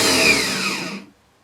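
A starter solenoid pushing the Bendix on a Volkswagen engine powering a mobile dimension sawmill: a loud, steady whirring spin that cuts off abruptly into silence.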